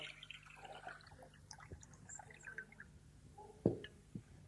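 Tap water that tomatoes have soaked in for about 10 to 15 minutes is poured into a container, giving a soft, low splashing trickle and one sharper splash near the end.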